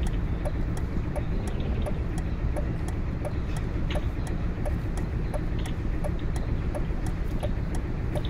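A car engine hums steadily after a gear change in the VRUM driving school simulator, a constant low drone with a faint regular ticking, like an indicator, running alone throughout.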